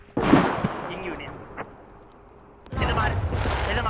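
Gunfire in the survival game SCUM during a base raid: a sharp loud burst at the start, a faint single crack midway, then another sustained burst of shots toward the end, with people talking over it.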